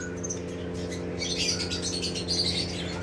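Lutino Fischer's lovebirds in a breeding cage give repeated harsh squawks and chirps, close by, over a steady low mechanical hum.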